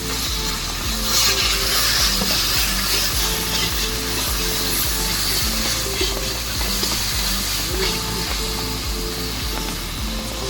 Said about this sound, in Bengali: শুকনো মশলা, তাই একটু জল দিয়ে আস্তে আস্তে কষিয়ে নিচ্ছি।